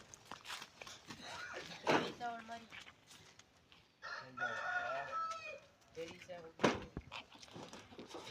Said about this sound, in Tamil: இங்கே பாருங்க, கோழி குஞ்சு மேய்ஞ்சிட்ருக்குது.